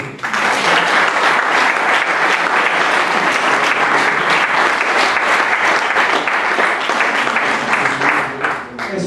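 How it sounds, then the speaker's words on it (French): An audience applauds firefighters at a sports-injury recovery event, sustained dense clapping filling the room loudly and steadily from start to finish. "Donc, je pense qu'on peut les applaudir s'il vous plaît."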